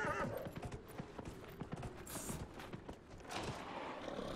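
Steady clip-clop of horse hooves in Dragon Age, trotting at a brisk rhythm under a layer of ambient noise, with faint voices in the background.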